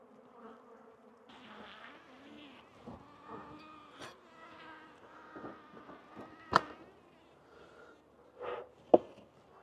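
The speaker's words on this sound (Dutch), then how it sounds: "Daarvoor moeten de bijen eerst goed kunnen vliegen." Honeybees buzz around one of eleven hives at an apiary, scattered individual flight hums rising and falling close by, with sharp clicks and knocks cutting in between.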